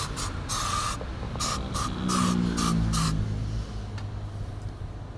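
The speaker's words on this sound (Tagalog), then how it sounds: "Spray na natin ng Lysol." Lysol disinfectant is sprayed in several short hissing bursts, then longer ones, into the air conditioning of a Toyota Fortuner, close to the microphone with a low background hum and no speech.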